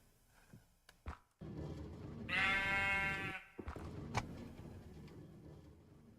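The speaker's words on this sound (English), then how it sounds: "It's a sheep or something. It got stuck in here." A sheep from the Minecraft video game gives one drawn-out bleat in the middle. It is clear and fairly close, with a few soft clicks and light background noise around it.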